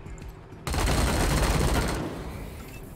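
A burst of rapid gunfire in the video game Wasteland 3. It kicks in abruptly and rattles loud and dense for over a second before cutting to a fading tail, with no voices.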